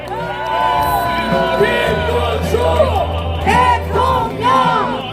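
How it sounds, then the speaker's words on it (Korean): A loud crowd cheers and roars at a presidential campaign rally in Yangju, South Korea, with whoops and shouted voices rising and falling over a low steady hum. "양주 시민 여러분들의 승리의 함성을 부탁드립니다."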